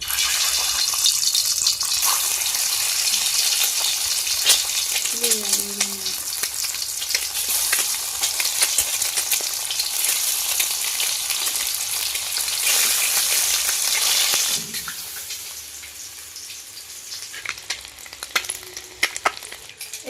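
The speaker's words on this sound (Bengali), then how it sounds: "এই কেটে রাখা ডিমগুলো ভেজে নেবো" Cut eggs fry in oil in a pan with a loud, continuous sizzle and crackle that runs throughout, with occasional stirring scrapes and a slight drop in intensity near the end.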